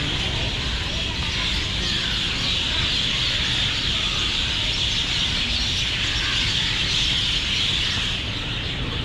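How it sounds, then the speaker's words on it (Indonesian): Many birds chirp together outdoors around a residential complex and mosque in Malaysia, a dense, continuous wash of high twittering at a steady, fairly loud level. "Banyak burung ah."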